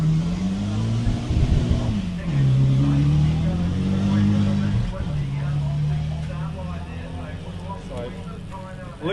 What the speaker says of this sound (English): Luke McLennan heading up the hill in his Mitsubishi Lancer Evo 3.